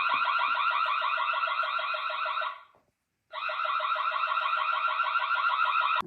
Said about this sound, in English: Let's test alarm.